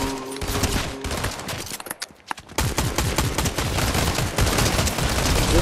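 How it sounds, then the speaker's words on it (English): Rapid bursts of gunfire in the Fortnite video game, dense and loud, with a brief lull before shots resume in heavy repeated volleys. "Oh, they're shooting at me."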